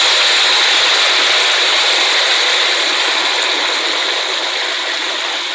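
Water for jambalaya pours steadily into a cooking pot as a continuous, loud splashing rush that holds for several seconds and eases slightly toward the end.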